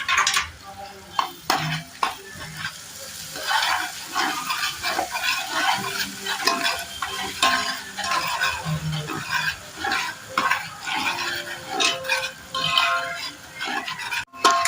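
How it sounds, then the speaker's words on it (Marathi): Chopped ginger, green chili and garlic sizzling in hot oil, stirred in a pan with a spoon, a close crackling fry broken by repeated scraping stirs. "त्याच्यामध्ये आपण आलं, मिरची आणि लसूण जी बारीक करून घेतले ती टाकून घ्यायची. हे आलं टाकायचं तेलामध्ये."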